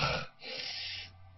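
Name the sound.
runner's labored breathing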